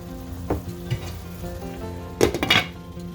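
Dinner cooking in a lidded pot, with a steady soft sizzle and a few short clanks and scrapes as the food is stirred now and then, loudest in a brief cluster near the end; no talking.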